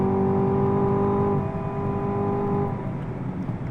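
A Chevy Camaro engine revs hard under acceleration while drifting around a circuit in Dubai, a loud, steady multi-toned roar that holds for over a second before the pitch drops as the throttle comes off.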